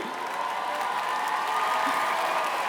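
A theatre crowd applauds a comedian on stage at a French comedy show, a steady, dense wash of clapping from a large audience with a few faint cheers, with no talking over it.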